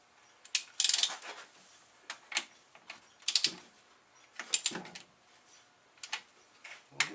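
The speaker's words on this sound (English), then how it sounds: "This is not the greatest torque wrench." A torque wrench ratchets in short clicking bursts with pauses between them while cylinder bolts are tightened on a 660 Rhino engine top end, quiet and close, with no voices.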